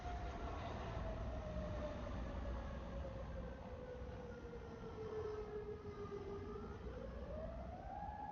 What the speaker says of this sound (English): that siren's off by like 20 seconds, isn't it?